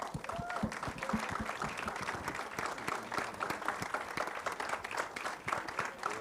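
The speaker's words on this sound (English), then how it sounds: "give them all a big round of applause, ladies and gentlemen" Sustained applause from an audience at a film trailer launch event, dense and steady throughout with scattered louder claps close by and a few faint voices mixed in.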